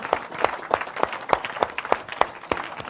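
A church congregation claps in a steady, rhythmic beat, about three claps per second, fairly close and lively, with no voices over it.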